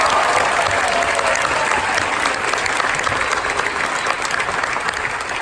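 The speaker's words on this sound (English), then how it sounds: "Round of applause, please." Dense, steady applause from an audience welcoming a conductor before a performance, sustained at even loudness throughout without speech.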